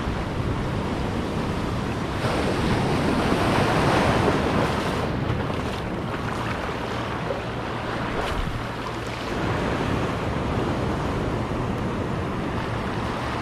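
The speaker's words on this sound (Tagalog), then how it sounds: "Biglang lalakas ng alon ah." Strong ocean surf washes in continuously at a seaside fishing spot, a broad roaring hiss of breaking waves mixed with wind buffeting the microphone, with no talking.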